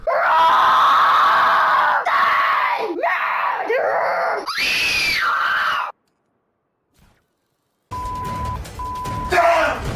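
A kid screams loudly at close range in several long, wavering shrieks and wails, then silence, followed by a short tone and a voice at the end.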